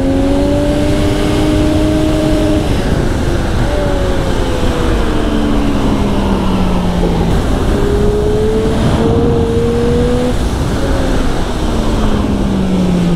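A 2020 Triumph Street Triple RS middleweight naked motorcycle runs hard on a race track, its loud engine note climbing and dropping through repeated gear changes, close and steady throughout with no talk.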